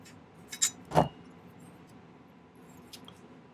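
Shears snip something off, giving two short, crisp cutting snaps close together near the start, followed by quiet with a faint click later on.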